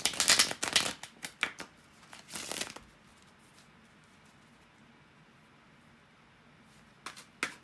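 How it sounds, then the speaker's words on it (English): Tarot cards being shuffled close by in a rapid burst of riffling and flicks for about three seconds, then near silence, followed by a couple of final card taps at the end. "to shuffle the tarot cards"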